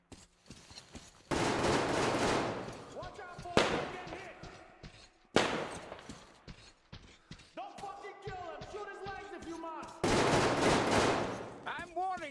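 Gunfire in the video game Metro Exodus, the Sam's Story DLC, heard as several loud, sustained bursts separated by pauses, with mechanical clanks and weapon handling between them.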